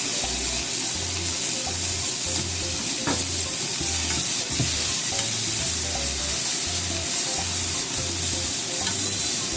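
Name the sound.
zucchini and tomato frying in a pan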